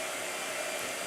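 A blow dryer runs steadily with a dense, even airy roar at close range, unbroken throughout with no talking over it.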